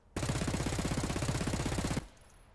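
A KRISS Vector submachine gun fires one fast full-auto burst of tightly spaced shots. The burst is loud and lasts just under two seconds, then cuts off abruptly to near silence.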